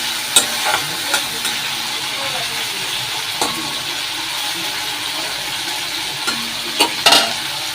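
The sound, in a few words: food frying lightly in a pan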